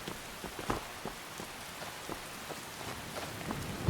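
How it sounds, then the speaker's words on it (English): Rain in the video game Skyrim patters steadily and faintly, a soft hiss broken by scattered louder drops, with no voices over it. "this rain is probably going to cause us some problems"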